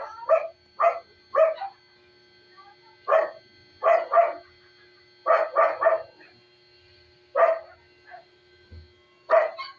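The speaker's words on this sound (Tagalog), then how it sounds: "Ingay ng aso namin." A household dog barks in short bursts, mostly single and double yaps with a few quick triplets, spaced irregularly at moderate distance over a steady electronic hum.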